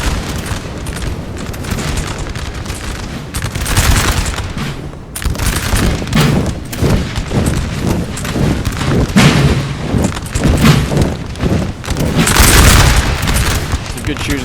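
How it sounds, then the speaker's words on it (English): Massed French infantry musket volleys crack through a Napoleon: Total War battle against Holy Roman Empire troops, dense continuous gunfire and booming shots filling the whole stretch, with a commentator's voice running underneath. "Some good shooting there by French infantry."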